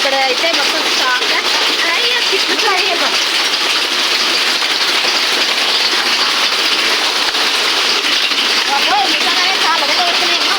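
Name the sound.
hailstones falling during a hailstorm in Hyderabad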